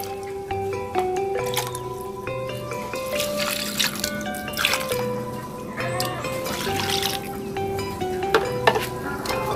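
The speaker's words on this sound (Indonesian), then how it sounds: "Kita siram setiap hari, jangan sampai media tanamnya kering." Water poured onto the growing medium of a potted fruit plant being air-layered, with steady dripping, trickling and soaking sounds running throughout alongside a faint continuous background hum.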